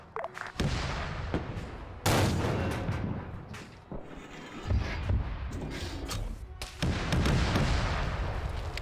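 Heavy gunfire in a Korean War combat game: several loud, sharp blasts with booming tails at irregular intervals, close and dense, each shot ringing out over a constant rumbling battlefield background.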